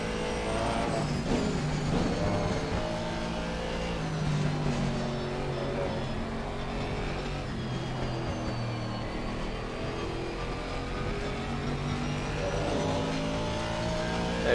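Aston Martin GT3 race car engine droning and shifting through laps of a wet, rainy Silverstone in the Assetto Corsa Competizione racing game, a steady loud engine note rising and falling with gear changes, no talking.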